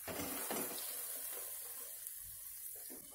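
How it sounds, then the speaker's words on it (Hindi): Gajar ka halwa, grated carrot cooking in ghee on a low flame, gives a soft, steady sizzle while a spoon stirs it, with a few faint scraping strokes against the pan and no talking. "धीमी आंच पर इसको बराबर चलाते रहना है।"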